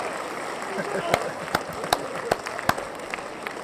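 Audience clapping and cheering at a live Sunday night show, a dense crowd wash with a few sharp individual claps standing out over steady noise.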